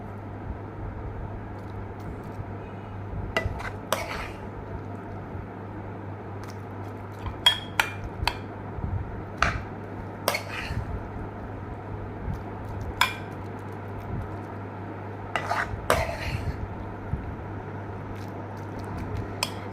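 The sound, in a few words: serving brinjal bharta into a dish with a spoon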